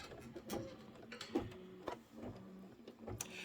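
An embroidery machine works a fast tack-down stitch on background fabric for a Kimberbell Cup of Cheer wreath, producing a continuous close rattling hum punctuated by regular sharp ticks and clunks.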